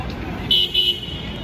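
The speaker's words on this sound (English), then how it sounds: "That's traffic from the street." Street traffic on Broadway near John Street, with two short car horn toots close together over a low roadway rumble.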